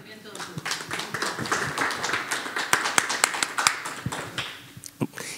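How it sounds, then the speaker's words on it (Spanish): Audience applause at a Pride event, a ragged burst of clapping from a crowd of moderate size, sharp individual claps close by, thinning out toward the end, with voices mixed in. "Un aplauso."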